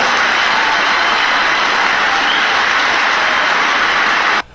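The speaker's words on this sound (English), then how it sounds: "Now you hear all those liberals clapping" Sustained, dense applause from a large audience at a political speech, steady and loud throughout, with no voices over it, cutting off abruptly near the end.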